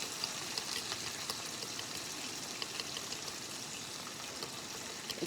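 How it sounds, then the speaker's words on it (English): Water dribbled from a cup into a bowl of fried peach pie dough mix in a home kitchen, a soft steady trickle and pour running continuously at low volume for several seconds. "I just put me a little old dribble of water"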